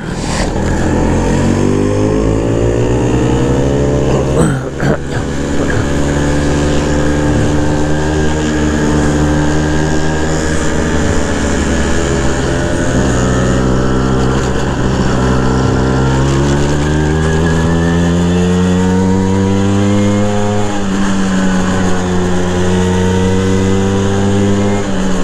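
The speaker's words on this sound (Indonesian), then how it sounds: "terus di upgrade sama Mas Wahyu, dibesarkan dan sedikit porting untuk menyesuaikan tanjakan, akhirnya jadi juga sekarang" A Vespa PX scooter with an enlarged, lightly ported engine runs steadily while being ridden uphill. The loud, close two-stroke drone rises and falls in pitch as the throttle changes, with no speech over it.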